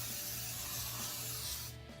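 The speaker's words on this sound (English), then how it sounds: "get a pan and then some cooking spray and spray your pan" Cooking spray hisses onto a baking pan for a huckleberry nectarine cobbler, a loud, close, steady hiss lasting about two seconds before cutting off.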